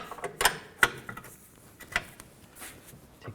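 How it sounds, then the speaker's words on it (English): A 22mm socket and 18mm wrench work loose a front lower control arm bolt on a 2013-17 Nissan Sentra, giving a few sharp metallic clicks and ratchet ticks spaced apart, fairly quiet and close, with no talking. "I'm going to use a 22mm socket right here and a 18mm wrench on the nut side."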